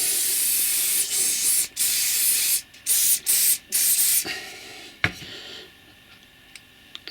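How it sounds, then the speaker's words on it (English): Aerosol can sprayed onto model railway scenery in close, loud hissing bursts, several short pulses in quick succession before the spray stops, followed by a few light ticks and handling sounds. "Bit more spray."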